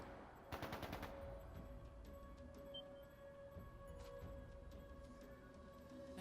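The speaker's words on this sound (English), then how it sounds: "That didn't sound good. That sounded like gunfire." A rapid burst of video game gunshots rings out briefly near the start, then a steady low background hum carries on with faint ticks.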